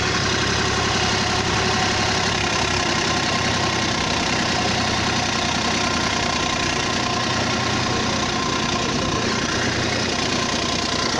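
A tractor engine idles in a forest, a loud, steady, continuous rumble with a knocking mechanical texture and no pauses.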